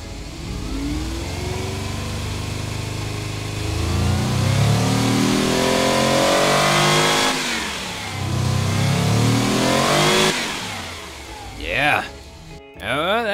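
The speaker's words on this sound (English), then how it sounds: "And now it is time to give this engine a go." A V16 engine fitted in a 1948 GT Premium car in BeamNG, revving hard: a loud, rising and falling roar through several sweeps up and down, then a sharp final blip and cut-off.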